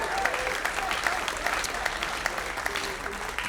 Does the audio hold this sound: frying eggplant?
no